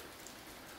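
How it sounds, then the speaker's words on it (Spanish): Light rain falls steadily during an April storm in Chalatenango, a soft, even hiss of drops with no other sounds. "Siempre sigue lloviendo, está lloviendo leve, como ustedes lo pueden ver aquí."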